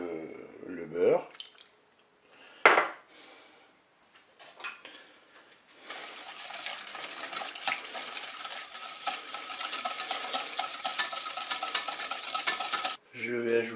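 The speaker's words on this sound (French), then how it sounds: "je vais commencer par battre le sucre avec le beurre" Butter and sugar are beaten together in a bowl, a dense continuous whisking rattle building and running steadily for several seconds after a few scattered clinks and knocks, then stopping abruptly.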